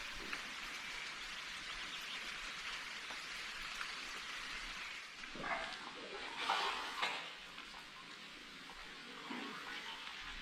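Steady rain falls continuously in a canyon during a descent, a dense hiss of drops with a few louder splashes and knocks partway through.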